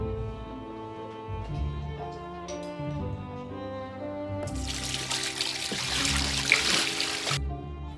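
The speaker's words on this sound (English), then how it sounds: "Sardana and Igor heat the melted ice water, making it warm enough to gently wash their newborn daughter" Melted ice water being poured or splashed while warmed for bathing a newborn in a home in Yakutia during a –64°C winter; a steady rush of water runs for a few seconds, loud over continuous background music.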